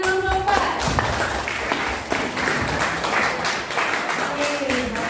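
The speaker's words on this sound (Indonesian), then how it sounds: "tepuk tangan buat kelompok 4" Classroom clapping for a student group, a burst of many hands at moderate loudness mixed with chatter and a few thumps, fading into room noise.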